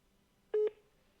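Telephone dialing tones while placing a call: one brief electronic tone, steady and clean, lasting a fraction of a second in near silence.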